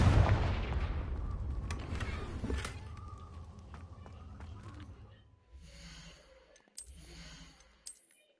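Confringo blasting spell explosion in Hogwarts Legacy, a loud booming burst that rumbles and fades over several seconds inside a cave, followed by quieter breathing-like sounds and small clatters.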